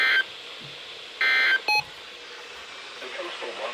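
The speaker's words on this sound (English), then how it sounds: "This concludes the weekly test of the NOAA radio warning alarm and emergency alert system" NOAA weather radio emergency alert system tones: three loud, clean electronic tone bursts, the first two longer and the last a short blip, then a quieter broadcast bed with a hint of voice.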